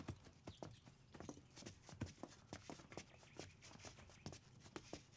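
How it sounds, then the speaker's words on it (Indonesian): Several horses clip-clop steadily with quick, overlapping hoof strikes on hard ground, fairly close, with faint stirring of the animals and no talk. "Kasih makan kuda-kuda itu"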